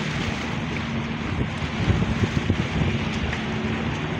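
Seaside wind buffeting at a harbor pier, with waves washing below, a loud rough rumble that swells and gusts briefly in the middle.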